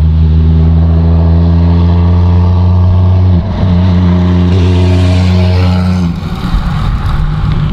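Toyota Supra with a single turbo exhaust on a test, engine held at a loud, steady idle drone before revving sharply and then falling back, close and unmasked.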